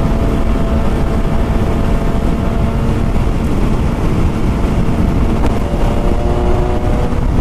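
A steady, loud engine drone from a BMW S1000XR sport-touring motorcycle runs throughout with a continuous rumble, cruising at speed with wind noise; no voices.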